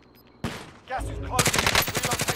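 Automatic gunfire in Call of Duty: Modern Warfare: a sharp shot, then a dense, rapid burst of rattling rounds that grows louder and continues steadily to the end, with no talk over it.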